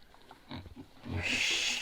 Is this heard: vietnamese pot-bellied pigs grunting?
yes